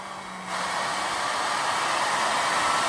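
A steady, smooth whoosh of a two-stage bladeless turbo fan spinning up, then holding a constant airy hiss at moderate volume.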